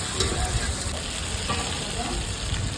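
Whole spices frying in biryani oil for a home pulao, a loud, continuous close sizzle with faint stirring throughout.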